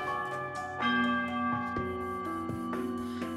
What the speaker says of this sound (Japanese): 直後に修行の鐘が鳴った